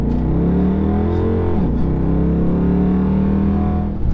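Dodge Charger engine revving hard as the gas pedal is pressed, a loud, close, rising roar that dips briefly and then swells again, heard from inside the car.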